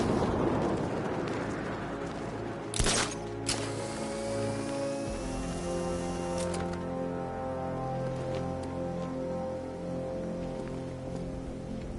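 An explosion in Batman: Arkham Knight sounds as a sharp burst near the three-second mark, followed by a rumbling, rain-like roar of debris under a steady layer of game music.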